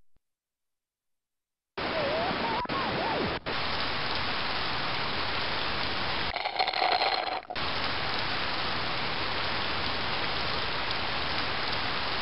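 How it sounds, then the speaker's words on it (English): Heavy rain in the video game Sammy's Science House, a loud, steady hiss of downpour that starts after a short silence, with a couple of brief dropouts and one muffled stretch before the rain returns at full strength. "Today is hot with heavy rain and strong winds."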